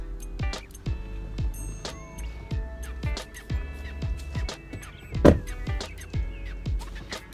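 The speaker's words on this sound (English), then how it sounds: "Electric windows, both sides," Electric windows operating on a Seat Leon Cupra R 265, a series of close motor whirs and sharp clunks repeating at a steady rhythm as the glass moves, with one louder thump partway through.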